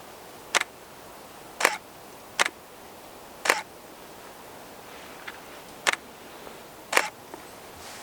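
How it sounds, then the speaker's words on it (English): Camera shutter clicks from a handheld camera swung in short up-and-down movements for creative nature photography, six or seven crisp isolated clicks spaced irregularly about a second apart over quiet background hiss. "So I start the movements, short movements up and down, and then press the shutter."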